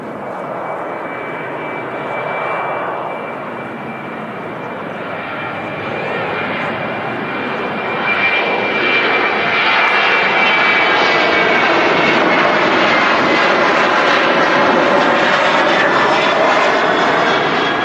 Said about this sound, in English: departing now is the Sun Express 737-800